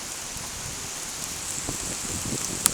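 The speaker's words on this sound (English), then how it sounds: "I can see it's actually bucketing out there." Heavy rain pours outdoors on Lamlash, Isle of Arran, a dense, steady hiss of drops with a few sharper drips close by.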